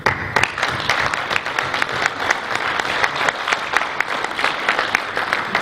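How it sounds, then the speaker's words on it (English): Audience applause for award recipients at a teleport industry awards ceremony, a crowd clapping steadily with some sharper individual claps standing out, sustained and fairly close throughout. "I'd like to offer one final round of applause to SES and our"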